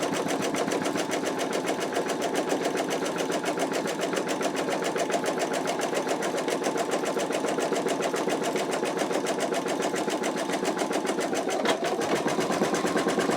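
A steady, rapid machine stitching drone of an embroidery machine sewing an in-the-hoop wallet, running continuously and evenly at moderate volume with a brief change in pitch near the end, no talking.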